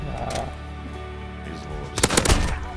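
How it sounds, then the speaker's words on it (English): Shotgun fire in the video game Modern Warfare 2019 during a Search and Destroy match: a couple of sharp, loud blasts come close together near the end, over a steady bed of game ambience. "this kid's using a shotgun now"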